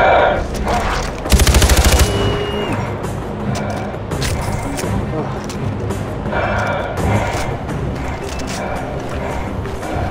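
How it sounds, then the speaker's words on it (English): Gunfire in the video game Far Cry 4, during a Himalayan mission: a loud rapid burst of automatic fire early on, then scattered shots within dense, noisy action sounds, with talk in the mix. "Guns."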